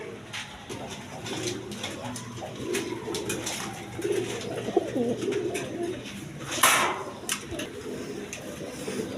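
Soft pigeon coos repeat through a steady background of rustling and low hum at a pigeon seller's, with a brief louder rustle partway through.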